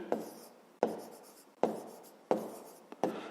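A math solution written down by hand, with five close scratchy strokes, each starting sharply and trailing off, in a steady rhythm and with no talk.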